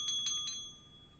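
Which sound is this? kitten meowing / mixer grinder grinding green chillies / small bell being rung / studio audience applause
small bell being rung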